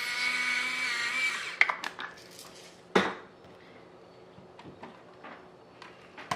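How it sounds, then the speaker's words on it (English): An electric blender whirs steadily for a second or two through meatloaf ingredients seasoned with garlic salt and pepper, then stops, followed by clinks and clatter of utensils and dishes, close by. "We're gonna give them a quick blend up."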